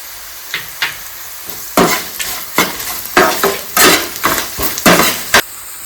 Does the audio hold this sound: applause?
no